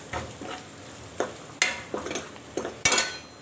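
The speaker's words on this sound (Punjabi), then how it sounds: "ਫਿਰ ਆਪਾਂ ਤੜਕੇ ਦੇ ਵਿੱਚ ਪਾਤੀ ਲਾਲ ਮਿਰਚ ਤੇ ਮਸਾਲਾ" Red chili and spices dropped into hot tempering oil for a whole masoor dal, crackling and sizzling while a spoon scrapes and clinks against the pan in irregular bursts.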